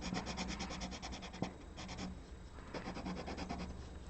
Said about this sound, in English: I'm really pressing hard, like I'm burnishing on this.